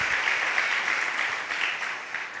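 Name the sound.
congregation clapping in church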